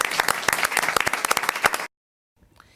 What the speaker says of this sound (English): give Noah a big round of applause